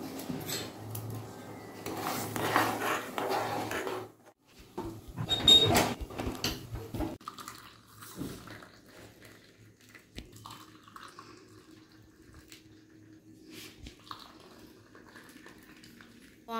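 Tea being made in a kitchen: dishes clatter and clink, then water trickles and drips, all fairly quiet and close.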